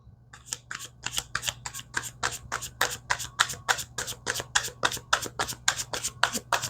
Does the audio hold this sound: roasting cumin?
no